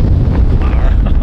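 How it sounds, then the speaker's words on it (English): Strong wind roaring and buffeting against the microphone on a golf course, a loud, low rumbling gust filling the whole moment. "So windy, man."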